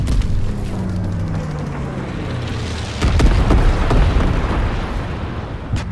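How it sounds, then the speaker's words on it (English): An incendiary firebombing run in Call of Duty WW2 sends up loud, rolling explosions, a dense roaring rumble that surges heavier halfway through. A descending drone is heard early on. "Dropping incendiary."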